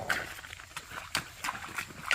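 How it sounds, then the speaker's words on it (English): A bay and white tobiano spotted saddle mare steps down into a creek, a series of faint, irregular hoof clops and splashy thuds spaced across a couple of seconds outdoors. "All right, here goes Jolene down into the first creek."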